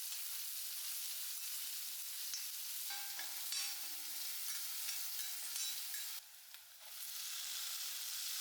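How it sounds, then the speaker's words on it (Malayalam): Shallots and green chillies sauté in hot coconut oil in a pan, giving a bright, continuous close sizzle with occasional scraping stirs and a short dip in the middle. "ചട്ടിയിൽ നമുക്ക് വെളിച്ചെണ്ണ പാർന്ന് അത് ചൂടായി വരുമ്പോൾ നമുക്ക് ചെറിയ ഉള്ളി, പച്ചമുളകും അതൊന്ന് വഴറ്റിയെടുക്കാം ആദ്യം"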